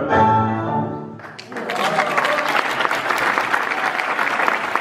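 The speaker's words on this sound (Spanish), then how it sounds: "Fuertes aplausos" Loud, sustained applause from an audience after a tango dance performance, dense clapping that swells in after a held sung note fades and continues steadily to the end.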